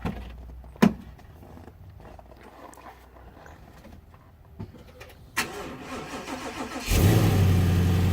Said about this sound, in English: do a little cold crank start on our lightweight battery catch can kit